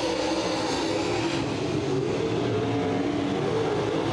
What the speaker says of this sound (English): The 8 car, David Payne, and the 11B is Stacy Bowles battling for the fifth position.